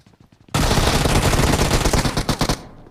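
Sustained burst of automatic gunfire in the mobile battle royale game PUBG Mobile (KR version), loud and close, with rapid overlapping shots for about two seconds before tapering off, no talking.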